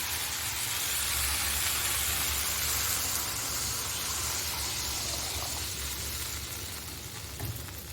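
Water poured into a pan of frying fish hisses and steams in a steady broad wash that eases slightly near the end, close and continuous with no voices.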